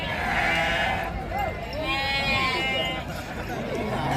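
Sheep and rams bleat repeatedly at a busy livestock market in Gudur, several wavering cries rising over a dense crowd murmur, with people talking throughout.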